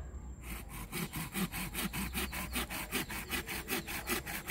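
A hand saw cuts through a branch of a banyan bonsai tree in steady, quick back-and-forth strokes, close and fairly loud, with no talk.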